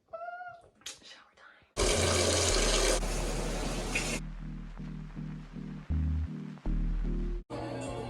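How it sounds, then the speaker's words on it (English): Shower water runs in a steady hissing rush for a couple of seconds, surrounded by other indoor sounds and a voice. "I'm about to get in the shower"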